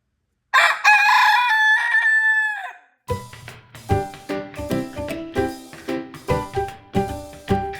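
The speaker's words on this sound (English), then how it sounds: "Living with a rooster is always unusual at best." A pet rooster living indoors crows once, loud and close, followed by a run of rhythmic clucks and short calls.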